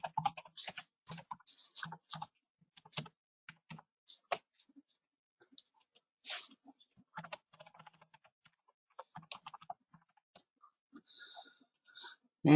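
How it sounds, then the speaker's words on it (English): Fingers tap out a username and password on a computer keyboard, delivering close, quiet bursts of key clicks separated by short pauses, with one louder thump right at the end. "So I type in my username, and I type in my password."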